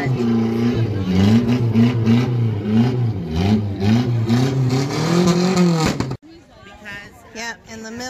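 At a desert RV camp, a vehicle engine revs nearby with a wavering, rising and falling drone for about six seconds before cutting off abruptly, and people talk over it.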